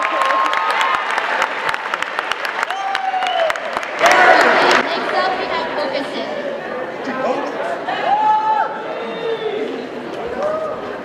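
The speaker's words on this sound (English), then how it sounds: "giving them a round of applause" A high school talent show audience applauds, a dense wash of clapping with a louder swell midway, while voices chatter and call out across the crowd throughout.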